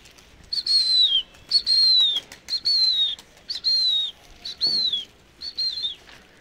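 Pigeons in flight, with brief repeated bursts of wing flapping paired with short whistle-like tones, about six evenly spaced clusters, fairly close and alone with no talk.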